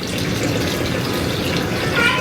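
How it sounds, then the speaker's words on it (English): Liquid nutrients pour steadily into the water of a hydroponic system, a continuous splashing trickle close by with a voice faintly underneath. "Now I am going to add some nutrients to this water so it will help my plants to grow."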